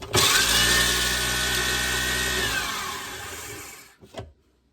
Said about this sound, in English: In the same blender, I'm going to go ahead and put the pecans in there.